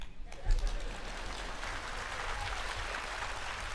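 Audience in a hall at a Malaysian education blueprint launch breaks into applause, a moderate wash of clapping building after a brief low thump and continuing steadily at middling volume.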